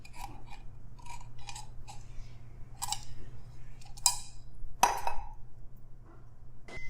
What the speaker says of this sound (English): that lets me get right at it with the scissors